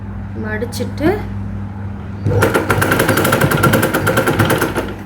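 A sewing machine stitches a blouse neck hem after a short spoken remark. Its fast, even needle chatter runs close and loud without a break, and a voice comes just before it starts.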